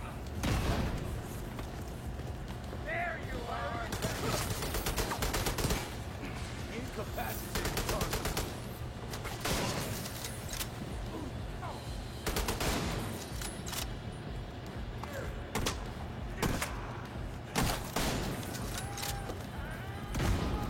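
Rapid video game gunfire crackles in dense bursts and single sharp shots across the whole stretch, loud and close, with no spoken voice over it.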